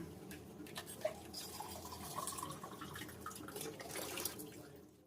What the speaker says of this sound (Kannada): ಅದೇ ಮಿಕ್ಸಿ ಜಾರಿಗೆನೆ ಸ್ವಲ್ಪ ನೀರು ಹಾಕ್ಕೊಂಡು ಅದಕ್ಕೆ ಸೇರಿಸ್ಕೊಳ್ಳೋಣ